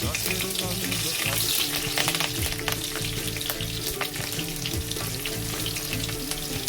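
Green chillies fry in hot oil in a pan, giving a steady, close sizzle with occasional stirring over tonal background music.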